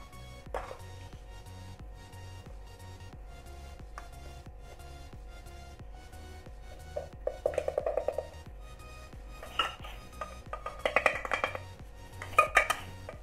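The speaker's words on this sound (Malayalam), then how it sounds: "ഈ അരിപ്പയിലേക്ക് ഈ പൊടി ചേർത്ത് കൊടുക്കാം" Flour for a simple vanilla cake is shaken through a sieve, giving soft scratchy rustles in short bursts and light metallic taps against a bowl, close and fairly quiet, with no talking.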